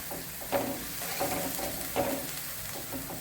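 Egg curry masala sautéing in a pan, a low hiss of frying with a few soft stirring scrapes at irregular intervals, fairly quiet and close.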